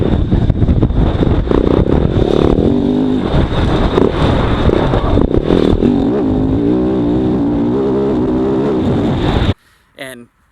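A KTM 690 Enduro R motorcycle engine pulls hard through corners in third gear, a loud, continuous droning roar that rises and falls with throttle and ends abruptly, with a voice talking over it.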